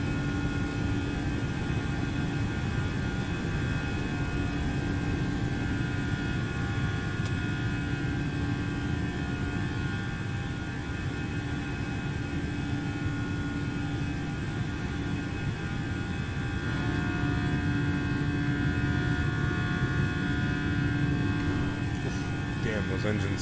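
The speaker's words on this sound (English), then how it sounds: "Damn, those engine sounds are so good. It's CFM." Airbus A321 with CFM jet engines climbing out in the X-Plane 11 flight simulator, flying San Diego to San Francisco, a steady droning engine hum that runs unbroken throughout.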